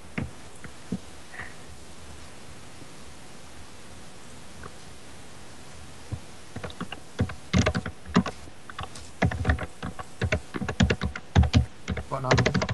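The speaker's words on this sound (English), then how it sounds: "who's going ham on their keyboard? That's me. I type loud." Loud, rapid typing on a computer keyboard, clattering in dense irregular bursts that begin faintly and grow heavy over the second half, close to the microphone.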